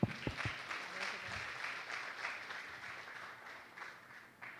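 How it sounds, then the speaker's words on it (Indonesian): Applause from a summit audience, a broad wash of clapping that starts right after a few low thumps and gradually fades over several seconds, with faint talk underneath. "Tepuk tangan."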